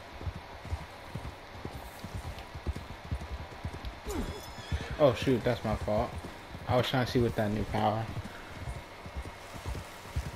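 Horse hooves clip-clop steadily in Red Dead Redemption, a rhythmic trot under a man's speech, with a louder burst of hoofbeats and other game sounds in the middle.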